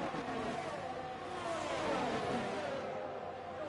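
Several race cars overtaking on a circuit, one diving down the inside on harder compound tyres; a steady roar of engines with pitch sweeps as the cars pass, fairly distant and continuous, no talk.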